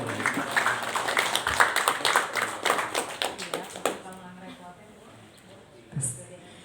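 An audience at an installation ceremony for the Bogor Regency e-sports board claps in a dense, lively burst for about four seconds, fading into a few scattered claps and quiet, with voices faintly audible beneath.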